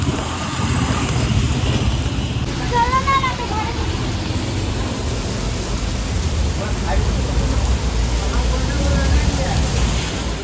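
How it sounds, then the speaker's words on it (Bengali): Heavy rain pours outdoors in a continuous, loud hiss, with a brief voice speaking over the downpour partway through. "এখন যেহেতু বৃষ্টি পড়ছে তাই হালকা হালকা দেখা যাচ্ছে"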